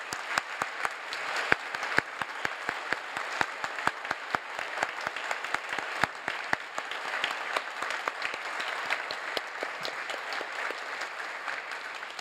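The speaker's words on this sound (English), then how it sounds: "So please, can we give them a round of applause?" Sustained applause from a seated audience at a health sciences medical graduates' oath ceremony, dense steady clapping with sharper individual claps standing out, continuing evenly throughout without talk.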